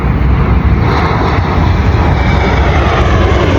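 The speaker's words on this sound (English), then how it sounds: "There's a plane." An airplane passes overhead, giving a loud, broad, steady roar of engine noise that fills the whole stretch without any voices.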